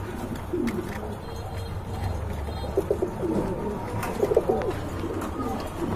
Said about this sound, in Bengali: এখন দেখতে পাচ্ছেন আরেক জোড়া ফিলব্যাক কবুতর